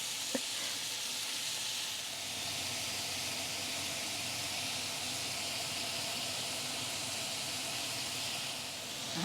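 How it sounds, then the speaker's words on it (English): A Vent-A-Hood kitchen range hood fan runs with a constant, even whooshing roar that stays steady throughout, with faint kitchen sounds beneath it. "I'm going to turn this Vena hood on, and it's so noisy"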